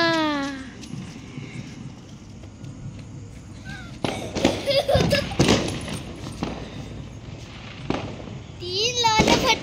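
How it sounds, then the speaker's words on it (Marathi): Firecrackers burst during a festival in a series of sharp, loud bangs with crackling tails, clustered mid-clip and again near the end, with whistling rockets and people talking around them. "फटाके फोडणं होते"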